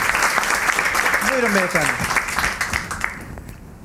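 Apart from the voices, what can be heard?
studio audience applause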